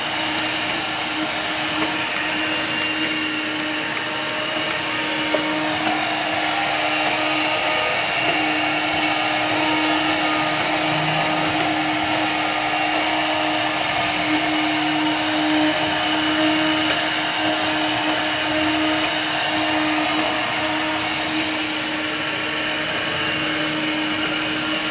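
A Cop Rose window cleaning robot runs on a window glass with a steady, loud motor and fan whine, a constant droning hum with no pauses and no talking.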